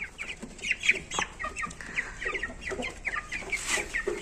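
Growing Brahma chickens kept as a hobby cluck and chirp close by in a busy, overlapping chorus of short calls, without any voices.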